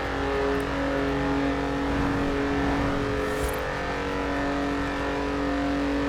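BMW i8 Roadster driving on a snowy road at night in Forza Horizon 4, a steady loud engine drone at high speed holding an even pitch throughout, with no talk.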